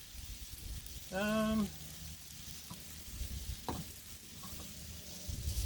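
Southwestern chili mac cooks on a Blackstone griddle outdoors in a light breeze, giving a quiet, steady sizzle. A short tonal beep rises early on and faint clicks and scrapes follow.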